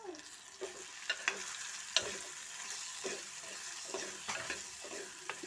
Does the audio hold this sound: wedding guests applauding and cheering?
no